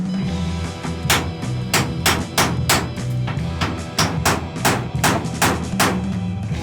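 Hammer tapping on chisels to pry a glued panel off the inside of a Peugeot Boxer van, a steady series of sharp metallic knocks, about a dozen over several seconds, close and loud with no talk.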